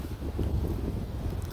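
Wind blowing through a dry, open state park in Colorado, a steady low rumble and buffeting against the microphone with faint rustling, loud and continuous throughout.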